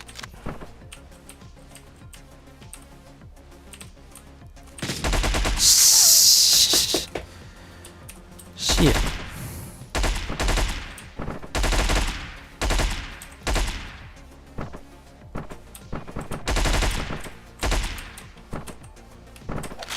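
Gunfire in the top-down shooter Hotline Miami 2 cracks out in loud, sharp bursts and single shots spaced through the stretch, with game music beneath.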